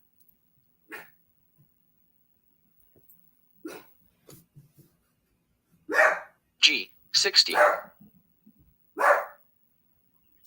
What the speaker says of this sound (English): He's barking at that door again.